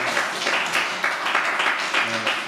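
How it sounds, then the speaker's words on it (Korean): A church congregation at a Sunday youth worship service applauds to encourage two young members, with steady, dense clapping throughout and a faint voice underneath. "우리 수고한 두 청년 위해서 격려의 박수 한번 해주시면"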